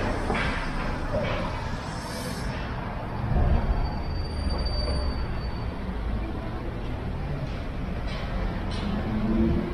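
Train in Chicago rumbling along the rails as a steady, close, loud low roar with metallic rattle and a brief surge midway, filling the whole stretch without speech.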